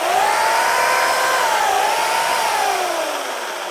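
An electric chainsaw powered through an inverter by a solar-charged vehicle's battery runs loud and steady with a high whine whose pitch rises slightly and then slowly sinks, heard alone.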